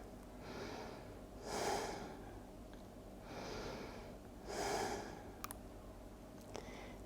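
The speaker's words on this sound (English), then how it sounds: "Breathe." Slow, audible breaths during a yoga stretch come in two pairs, each a soft inhale followed by a stronger exhale. The room is otherwise quiet apart from a couple of faint clicks.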